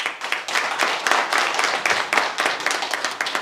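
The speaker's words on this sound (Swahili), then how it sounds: "tupige makofi tena kindly" A crowd at a Gusii Scribes welfare stakeholders engagement claps steadily, a dense patter of many hands filling the room without pause from start to finish.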